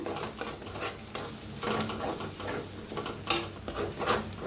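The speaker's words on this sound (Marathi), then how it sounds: "तर छान असं भाजून घ्यायचं बेसन पीठ बी कांद्यात।" Gram flour roasting with onions in a pan, a close, soft sizzle under repeated scraping strokes of a spoon stirring against the pan, with one sharper metallic clink.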